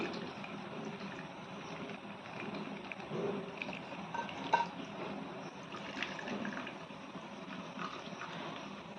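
Homemade ghee made from milk cream being strained, giving a steady liquid trickle and pour with faint wet splashes throughout, soft and continuous with no talking.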